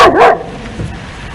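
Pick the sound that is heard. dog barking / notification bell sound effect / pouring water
dog barking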